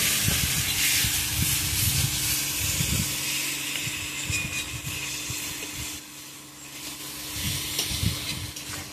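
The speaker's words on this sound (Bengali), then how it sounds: "ডিমের সাথে মশলাটা এইভাবে কষিয়ে নিয়েছি, খুব অল্প জল দিয়ে দিয়ে।" Eggs cooking down with spices and a little water in a pan for egg curry give a loud continuous hiss and sizzle, punctuated by repeated scraping stirs and a low steady hum.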